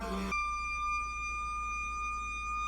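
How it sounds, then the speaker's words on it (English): An updated fire department horn in a police video game blares as a steady, sustained electronic tone that holds unchanged after a brief burst of other noise at the start. "they also updated the fire department horn"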